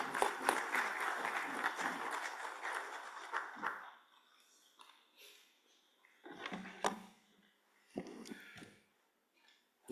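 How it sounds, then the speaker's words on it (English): Applause from the audience at an international legal conference session, moderately loud clapping for the first few seconds, then fading into scattered, sparse claps and near silence. "We welcome you with a huge round of applause."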